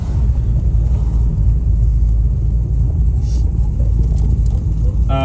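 A repainted Holden Torana with no power steering cruising at part throttle, a heavy low engine rumble filling the cabin steadily, with a voice speaking over it at moments.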